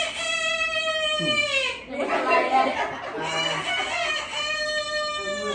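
A voice imitates a rooster crowing at a Thai wedding ceremony, giving two long, drawn-out crows with a spoken pause between them.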